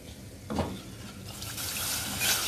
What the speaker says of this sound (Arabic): غادي نضيفو دابا الحليب